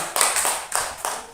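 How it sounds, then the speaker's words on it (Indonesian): Classmates in a classroom applaud a fellow student with a short burst of hand claps, roughly five or six distinct clap groups in quick uneven rhythm, close and crisp, with no talking. "Yuk, tepuk tangan untuk kawannya."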